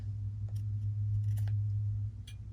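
Scissors trimming the fabric corner of a sewn needle book, a few faint, brief snips over a low steady hum.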